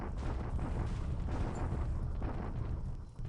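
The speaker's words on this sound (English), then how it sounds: "the artillery bombardment, and then the actual ground assault" Artillery bombardment in the War in the Pacific strategy game: a dense, continuous rumble of booming low-end blasts rolling without pause for several seconds, loud and steady with no voices.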